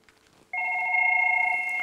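A desk phone handset rings with an incoming outside call: after a brief quiet moment, a loud, steady electronic two-tone ring starts abruptly and holds, close and alone.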